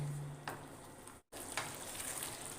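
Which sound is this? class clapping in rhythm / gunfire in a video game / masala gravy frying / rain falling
masala gravy frying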